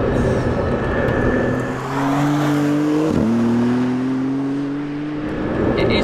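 A Maserati MC20 rear-wheel-drive supercar accelerates out of corners on bumpy roads, its engine note climbing steadily with a quick gear change midway, then pulling again amid loud wind and road noise from inside the car.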